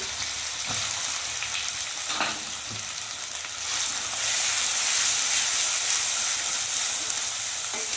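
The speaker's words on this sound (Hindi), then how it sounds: "मैं इस तरीके से लहसुन को सेकती हूँ" Steady sizzling of garlic and onion frying in hot oil, with occasional stirring scrapes, close and continuous, growing louder partway through.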